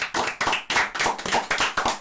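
An audience applauds with brisk, rhythmic clapping, a steady run of close, sharp hand claps with no talk over it.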